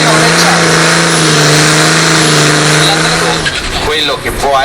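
A tractor pulling engine revs hard at full power, a loud sustained tonal roar that holds steady and then breaks into rising, rough surges near the end.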